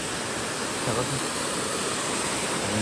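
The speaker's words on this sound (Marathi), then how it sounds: "समोरच वॉटरफॉल आहे" Waterfall near a hidden Mahadev temple, a steady broadband roar of falling water filling the whole clip at close range, constant and unbroken, with no voices over it.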